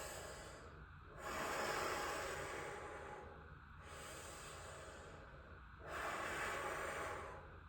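Slow, deliberate breaths during a neck stretching exercise, three long airy exhales and inhales close to the ear, separated by short pauses, with no talking.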